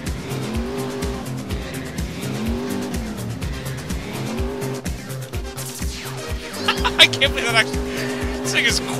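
A car speeds through GTA IV with a revving engine whose pitch rises and falls in sweeps, then tires squeal and skid loudly toward the end, with music playing underneath.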